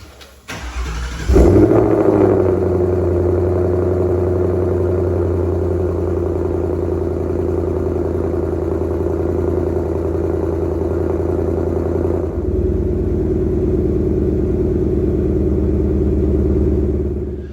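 A twin-turbo Ford Mustang, just fitted with new catalytic converters, cranks and fires, then settles into a loud, steady, deep idle that runs on with a slight change in tone partway through, close to the car with no talking.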